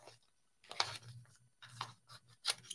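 Someone cuts out a design by hand for a reverse canvas frame, making quiet, scattered snips and rustles that come in short bursts with soft pauses between them.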